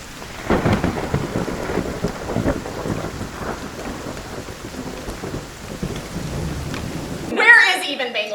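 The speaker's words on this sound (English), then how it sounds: "all of a sudden, we were in Bangladesh. Bangladesh. You guys, in the middle of a monsoon." Heavy monsoon downpour in Bangladesh with rolling thunder, a dense steady roar of rain drumming on surfaces for most of the stretch before cutting abruptly to a brief different sound near the end.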